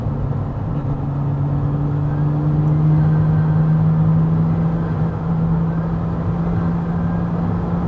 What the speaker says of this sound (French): Le son du turbo est très marrant par contre.